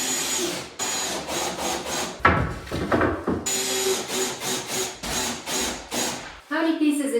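Wooden trim being installed in a house renovation, with a steady run of loud power-tool bursts and knocking, cut by brief pauses and a sharp hit, close by, with people speaking in the background.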